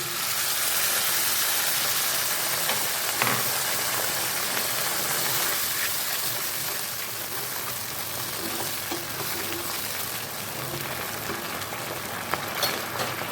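Chicken frying in a hot pan, with ingredients poured in to sizzle; a steady, loud crackling hiss runs throughout with occasional stirring clatter, close and continuous, no talking.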